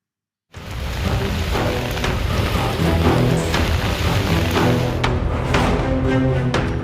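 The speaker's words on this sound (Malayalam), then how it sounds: "ഇന്നലെ രാത്രി ആരംഭിച്ച മഴ ഇന്നും ശക്തമായി പെയ്തു" Heavy rain pours steadily and loudly, a dense constant wash with occasional sharper drips and splashes close by.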